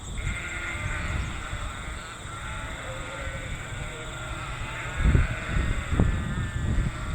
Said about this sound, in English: Are you causing the sheep to make that noise?